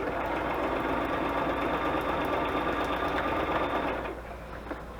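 A sewing machine runs steadily, stitching scrap paper pockets with a fast, even mechanical whir close up, then slows and stops near the end.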